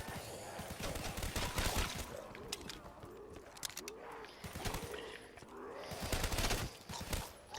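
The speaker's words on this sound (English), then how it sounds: "This bootlegger's a pretty good weapon here." Rapid gunfire from a bootlegger weapon in a Call of Duty zombies match on the Verruckt map, loud repeated bursts with clattering shots throughout.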